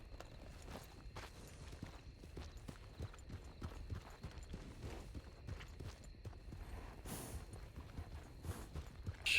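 Horses' hooves clip-clopping across ground in the western roleplay game WildRP, a steady stream of soft, overlapping hoofbeats at moderate distance that continues throughout.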